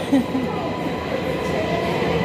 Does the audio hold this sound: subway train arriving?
yes